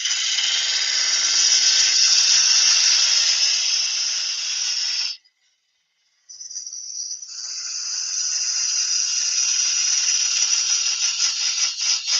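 Wood lathe cutting tool starting a parting cut on spinning wood, a loud steady hissing scrape that drops out for about a second midway, then resumes and continues evenly.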